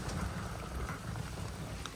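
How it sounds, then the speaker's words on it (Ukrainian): Heavy, squally rain falls in a Carpathian mountain forest, a steady, dense hiss of downpour with no pauses. "Сьогодні нас ліс зустрів шквальним дощем."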